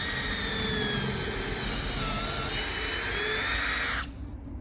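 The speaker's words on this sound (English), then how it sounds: "And yeah, you just start drilling." A steady, high-pitched whine of a power drill boring holes into a log runs for about four seconds, then cuts off abruptly, leaving a faint tail.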